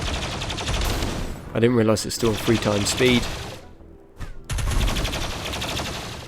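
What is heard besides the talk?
gunfire in Rimworld video game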